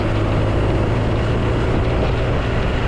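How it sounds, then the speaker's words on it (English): A car on a country road coasts off the throttle while the driver shifts down a gear into a corner. Steady, loud engine and road roar with heavy wind buffeting fills the cabin, and no voices are heard. "I'm off the throttle, come down a gear, change our speed."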